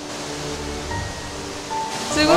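Oshinkoshin waterfall in Shiretoko, Hokkaido rushes as a steady, broadband roar of falling water, close and loud, with a brief rise near the end and faint background voices.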